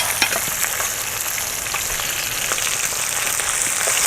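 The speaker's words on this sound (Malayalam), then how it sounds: "ഫ്രൈ ചെയ്ത വറ്റ" Vatta fish steaks sizzle and crackle steadily in hot oil at an outdoor primitive cooking spot, a dense close frying hiss with scattered pops and no voices.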